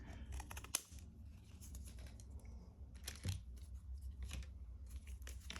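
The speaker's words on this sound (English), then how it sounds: "I think I'm gonna just cut it here." Scissors snip through a piece of denim label at a desk, a few close, crisp cuts with one sharper snap among soft rustling handling sounds.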